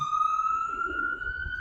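An ambulance siren holds a single steady, piercing tone at moderate distance, with faint low background rumble beneath it.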